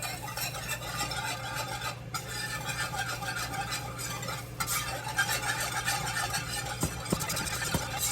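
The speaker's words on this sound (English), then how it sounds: "So, and now I'm gonna scramble." Scrambled eggs are stirred in a pan over medium-low heat, a spatula scraping and swishing steadily against the pan under a soft sizzle, with a few clinks of metal near the end.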